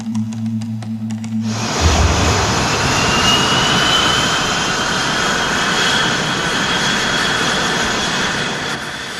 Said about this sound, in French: Les moteurs de l'avion se sont mis en route tout seuls.